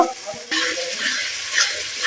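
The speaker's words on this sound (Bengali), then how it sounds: "মশলাটা ভালো করে ভাজা হচ্ছে তেলটা ছাড়া ছাড়া হচ্ছে" Ginger, chili and turmeric spice paste frying in oil in a pan while cooking mutton: steady loud sizzling and bubbling hiss with stirring scrapes, close and continuous, no talking.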